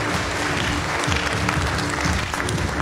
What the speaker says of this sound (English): Ladies and gentlemen, please put your hands together for Kelvin Fong. Round of applause.